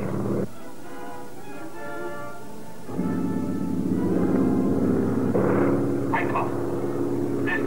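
A plane drones steadily over a camp in a vintage serial, a continuous engine hum with layered tones that grows louder and busier partway through, with no speech over it.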